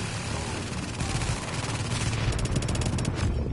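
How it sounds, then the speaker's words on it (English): Gunfire in a PS4 shooter, a dense continuous barrage of rapid shots over constant roaring noise, loud and sustained throughout, with no voices. "Oh, Jay, where'd they shoot me from?"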